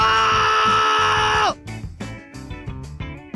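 A boy in an anime scene lets out a sudden loud, sustained scream lasting about a second and a half, cut off abruptly and followed by quieter background music and sound effects.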